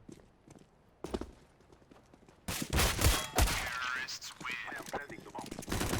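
Sniper rifle fire in the game CS:GO, with a few sharp shots and then a dense, loud stretch of gunfire and game action over scattered sounds.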